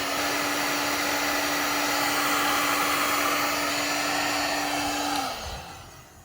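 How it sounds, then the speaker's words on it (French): A heat gun heating heat shrink on solar connectors blows with a loud, steady whooshing hum and a constant motor tone, then winds down at the end. "appliquez de la chaleur à l'aide d'un heat gun"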